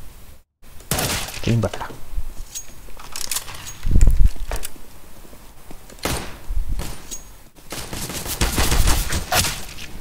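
Gunfire in the video game CS:GO during a competitive match, several sharp shots scattered across the stretch, with a brief spoken word near the start.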